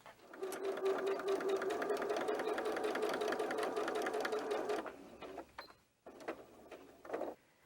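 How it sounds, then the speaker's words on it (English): A sewing machine runs steadily for about five seconds, rapid and loud, stitching a 1/4 inch seam along the bottom edge of a fabric bag lining, then stops, followed by quieter handling and fabric rustling. "when you go ahead and sew the bottom edge with a 1/4 inch seam allowance"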